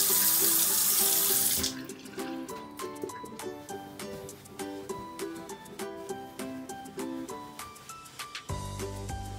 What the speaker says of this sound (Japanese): まずは冷たい水で顔を洗って脳を起こしています。